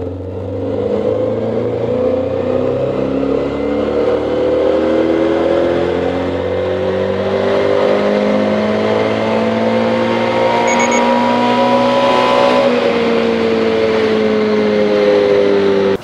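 A 2022 Subaru BRZ engine with an aftermarket intake revving up loudly and steadily, its pitch climbing through the gears as it accelerates, close by with no talking.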